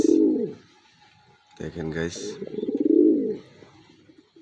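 A racing pigeon coos close by in two low, throaty bursts, one at the start and a longer rolling one later, with someone speaking briefly between them.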